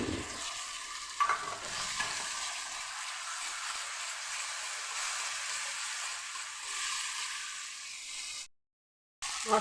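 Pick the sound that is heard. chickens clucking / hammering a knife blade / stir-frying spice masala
stir-frying spice masala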